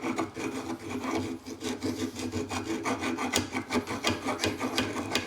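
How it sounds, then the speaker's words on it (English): A hand file gently scrapes surface rust off the front brake disc of a 2009 Fiat 500C 1.2 petrol, giving a steady series of rasping strokes, close and moderately loud, with no voices. "a file, gentle bit of filing is an effective way of removing it"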